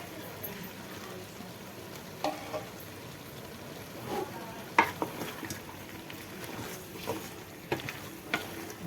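Ground pepper and cumin being stirred and fried in a pan for country chicken rasam, with a soft steady sizzle broken by scattered scraping knocks of the spoon, fairly quiet and close, no voices.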